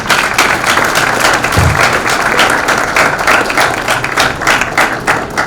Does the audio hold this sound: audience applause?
yes